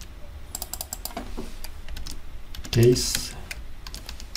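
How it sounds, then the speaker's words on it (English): Keys clack on a computer keyboard in quick irregular bursts, close and crisp, with a short spoken word cutting in partway through. "assuming I'm typing here Tesla"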